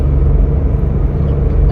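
Steady, loud road traffic with a continuous low rumble of car engines and tyre noise, no distinct pass-bys and no one speaking.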